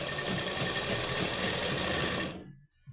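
A sewing machine runs steadily, stitching the waistband side of a garment on fabric folded over, a continuous close mechanical whir for over two seconds before it stops abruptly.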